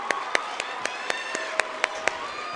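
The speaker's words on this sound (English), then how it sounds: "let's give him a round of applause" A small audience at a school male pageant gives sparse, rhythmic applause, a handful of sharp, evenly spaced claps ringing out in a hall.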